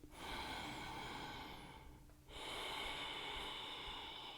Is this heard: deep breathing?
yes